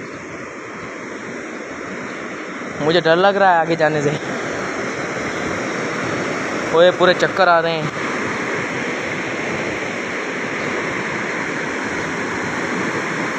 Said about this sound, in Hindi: आवाज चेक करो कितना तेज आवाज है पानी का